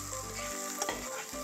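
Onion and chopped tomato frying in a pan give a close, steady sizzle with a brief stir partway through, alone with no voices.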